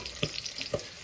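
Beef mince fries in olive oil in a pan over low heat, with a soft, steady sizzle and a few quiet stirring clicks.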